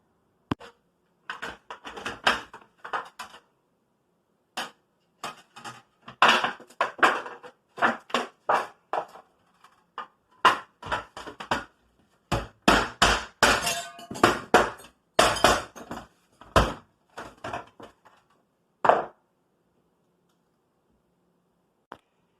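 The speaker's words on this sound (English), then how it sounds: "I'm just going to hammer that window out so it'll fall out into that box" Repeated sharp hammer blows crack and shatter old window glass, knocking it out into a box, with pieces clinking and tinkling down in bursts over about twenty seconds, close by and loud, no talking.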